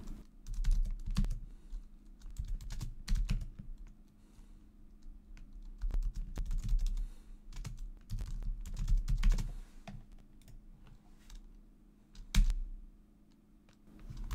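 Typing on a computer keyboard at a desk, irregular bursts of close, soft key clicks with short pauses between runs, alone without talking.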